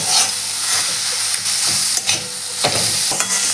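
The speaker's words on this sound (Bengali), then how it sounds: "এবার আমি ভাজা বড়িগুলো দিয়ে দিচ্ছি এবার আরও দু মিনিট মতন গ্যাসের ফ্লেমটাকে একদম লো করে আর একটু ভেজে নেব" Radish greens frying with fried lentil bori in a pan over a low gas flame, a continuous sizzle broken by several soft stirring scrapes, close and fairly loud.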